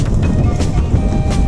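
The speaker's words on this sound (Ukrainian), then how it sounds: "Страшний вітер" Strong wind roars and buffets against the microphone in a heavy, rumbling low-frequency rush, constant and loud, with a faint engine-like drone underneath, heard while riding slowly into a headwind near Lake Tisza, Hungary.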